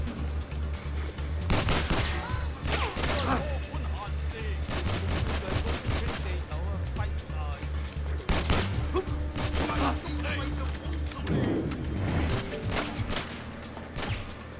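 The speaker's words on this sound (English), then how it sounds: "Who's shooting at me?" Gunfire in the video game Stranglehold, dense bursts of rapid automatic shots and single cracks going on for several seconds amid game background noise.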